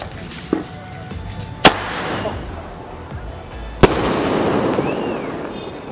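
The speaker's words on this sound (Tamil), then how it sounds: "இதில் வந்து இந்த 1-inch ஷாட் இருக்குது. இப்போ வந்து இதை நம்ம வந்து வெடிச்சு பார்க்க போகிறோம்." Outdoor firework testing in Chennai of a 1-inch aerial shot cracker, with sharp loud bangs from launch and burst, sparkling crackle between them, and people talking in the background.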